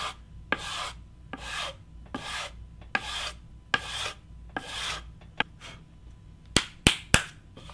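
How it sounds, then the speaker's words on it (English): Repeated rasping strokes of sandpaper on the solid wooden body of an electric guitar kit, sanding with the grain, about eight even passes in a steady rhythm, followed by a few sharp taps near the end. "So we're going to sand like this"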